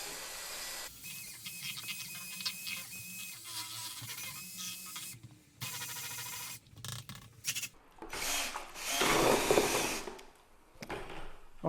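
Drywall joint compound being mixed in a bucket with added powder, giving steady rubbing and rasping scrapes with short pauses and bursts, close and moderately loud, with no talking.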